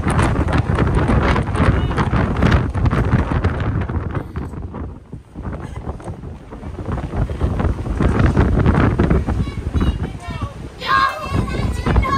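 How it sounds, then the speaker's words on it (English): Heavy wind rumbles and buffets the microphone nearly throughout in San Gimignano, Italy, dipping briefly in the middle, with voices talking over it at times. "It's very windy up there"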